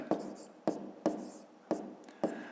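Numbers written by hand, likely pen on paper, as a maths exercise, heard as five separate sharp tapping strokes at a steady rhythm, quiet and close.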